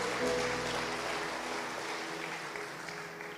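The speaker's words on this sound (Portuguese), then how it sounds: "dê um aplauso ao Senhor Jesus aí" Church congregation applauding during a worship service, a dense steady clapping that fills the space and slowly fades over a few seconds, with no talk over it.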